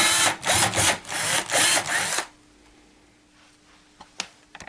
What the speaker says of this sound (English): Next, drill a 8mm or